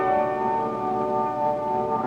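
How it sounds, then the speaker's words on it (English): A bell, rung with a big toe during a spiritualist séance, holds a sustained, clear ringing tone with steady overtones throughout, moderately loud and unbroken. "ringing a bell with his big toe"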